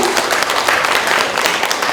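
Steady crowd applause at a library award ceremony marking a Paju city library's 30th anniversary, a dense, even wash of clapping throughout a short stretch with no voices.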